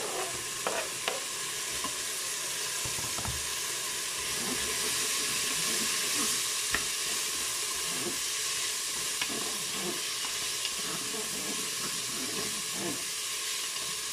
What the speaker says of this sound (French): Les lardons et les oignons commencent à bien dorer là.